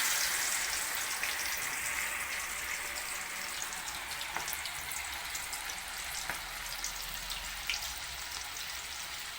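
Okra deep-frying in hot oil, a steady, close, bright sizzling hiss with scattered crackles and pops throughout, no talk.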